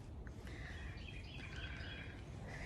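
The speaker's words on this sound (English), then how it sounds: "It's the birds, the bees, all the sweetness." Birds chirp and sing in the open air beside a lake, with bright overlapping calls above a steady low rumble of wind or background noise.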